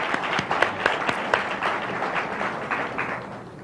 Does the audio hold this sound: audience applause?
yes